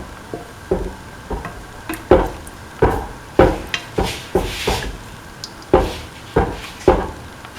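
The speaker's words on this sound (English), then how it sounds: "Mix the semolina thoroughly with the rest of the mixture and the milk." A spoon stirs semolina mixed with milk in a pot, making repeated scraping knocks in an irregular rhythm. The strokes are close and distinct, with no voices.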